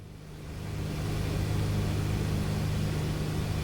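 A small aircraft engine throttles up for a go-around climb, a steady droning rumble rising in loudness over the first second and then holding strong and even without speech.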